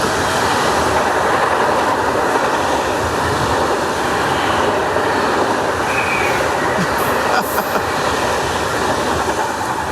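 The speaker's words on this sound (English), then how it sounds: "I'm at the train station" A train station with trains passing, a loud continuous rumble of rolling rail cars with rhythmic wheel clatter and brief high squeals, no talking.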